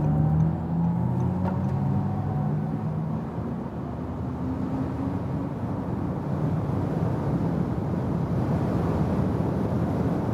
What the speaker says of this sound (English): we will accelerate it out to 200 kilometers now